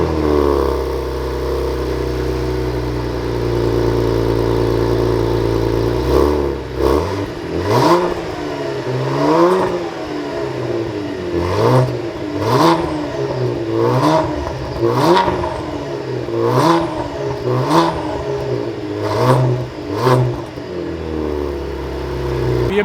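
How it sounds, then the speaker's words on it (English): A Cadillac CT4-V Blackwing engine and exhaust hold a steady drone, then rev repeatedly in sharp rising blips that fall back between pulls, loud and up close. "this car sounds actually pretty good. So take a listen to how this sounds"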